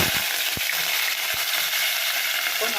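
Onions frying in hot oil for a Kerala-style coconut kulambu give a steady, loud, close sizzle with a few soft knocks of stirring, and no talking.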